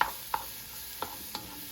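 Mushrooms sauté in a pan with a faint, steady sizzle, broken by a few soft scraping stirs of a utensil, quiet and close with no talking.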